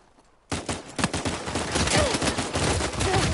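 Pistol fire in a team deathmatch round of Uncharted 4 multiplayer, a video game: after a short quiet start, a dense rattle of close, loud shots and impacts runs continuously with other battle noise.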